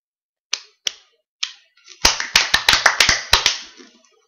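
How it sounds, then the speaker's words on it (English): Sharp hand claps for a student in a chemistry lesson: a few spaced single claps, then a quick, loud burst of rapid claps that trails off, with no talking over them. "Let's give her 5 claps"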